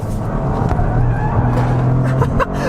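A 2023 Toyota GR Corolla driven hard around an autocross course, its engine droning loudly and steadily up close with shifting pitch, plus faint tire noise near the end.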